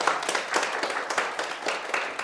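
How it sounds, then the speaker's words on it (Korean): Audience applause after a talk on reading, a dense broadband patter of many hands clapping steadily and fairly close for a couple of seconds, with no voices. "박수 한번 더 드릴까요?"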